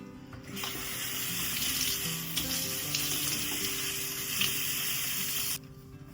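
Running water from a tap rinsing coffee grounds off coffee-dyed clothing, a steady splashing hiss that starts abruptly and cuts off near the end, with no talking.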